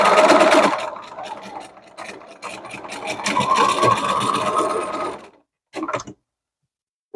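A home sewing machine stitches a pillowcase seam, running over pins, in a steady motorized whir that drops off, then a short final burst near the end.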